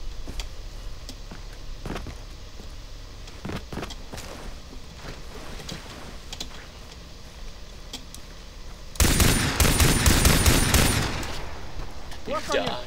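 Gunfire in the video game Far Cry 3: scattered single shots and clicks over quiet game ambience, then a loud dense burst of rapid automatic fire lasting about two seconds, close and dominant.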